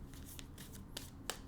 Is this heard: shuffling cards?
yes